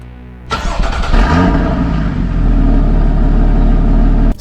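A Porsche 981 Cayman S on its stock exhaust starts up loud and close: a short starter crank catches into a brief rev, then settles into a steady, deep idle rumble.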